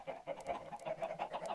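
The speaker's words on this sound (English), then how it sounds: "All I can hear is chickens." Chickens cluck rapidly and continuously in Minecraft, with rhythmic, fairly quiet in-game bird noises and no talking.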